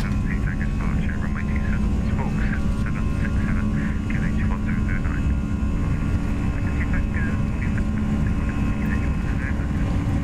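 Jet engines of a Toliss A319 in the X-Plane 11 simulator spool up for takeoff at Manchester, a steady, loud, continuous roar and whine holding for about ten seconds with no pauses.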